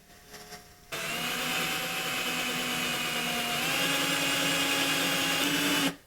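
A small Milwaukee power drill with brand-new bits whines steadily as it bores through metal for an oil burner build, running continuously for about five seconds before cutting off.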